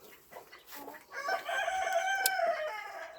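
A rooster crows once in a long, strained call among Cochin and Australorp chickens, preceded by a few short clucks, close and clear against quiet surroundings.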